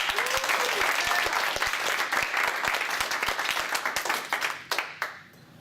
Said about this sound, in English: So let's go ahead and clap it.